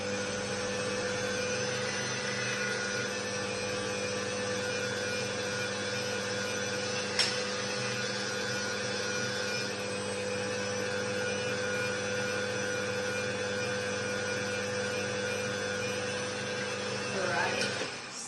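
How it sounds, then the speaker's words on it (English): Fresh hand-made pasta dough is fed through a pasta machine, a steady mechanical hum running throughout with a brief click partway in and a soft rustle near the end. "And now we're going to roll it through the machine but to our desired thickness."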